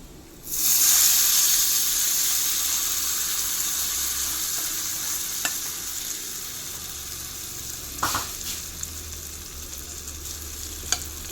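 Hot tempering sizzles loudly as it is poured into a yogurt-based curry mix for a Bengali-style brinjal curry, a steady frying hiss that slowly fades while it is stirred, with a few spoon clinks near the end.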